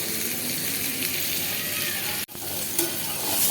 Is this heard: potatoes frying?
yes